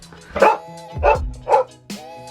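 Several sharp dog barks close by inside a tiny room, four bursts spaced unevenly with brief pauses between, loud and clear with no talking.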